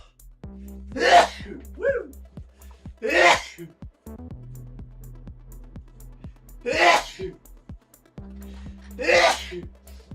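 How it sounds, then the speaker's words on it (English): One person sneezes four times, loud and close, in widely spaced bursts over about ten seconds. A brief exclamation and some breathy vocal sounds fall between the sneezes, with a low hum in the background. "I'm gonna stand over here and sneeze for a while."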